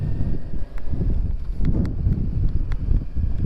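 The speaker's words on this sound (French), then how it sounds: "toujours ce vent, rien qui change, comme d'habitude" Gusty wind buffets the microphone outdoors with a loud, low, rumbling roar that surges and dips irregularly. Faint higher rustles sit on top, and no one speaks.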